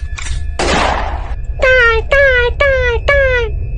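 A cartoon gunshot effect: a quick crack, then a longer broad blast, followed by four loud, evenly spaced yelping cries like a dog's.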